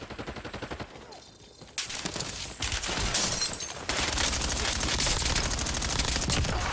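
Gunfire erupts in the Black Ops 7 Warzone game, starting with a rapid rattling burst, then swelling into dense, continuous automatic fire and overlapping shots that stay loud and close.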